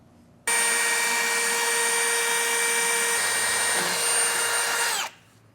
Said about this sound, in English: So we're going to build our way up with some smaller drill bits.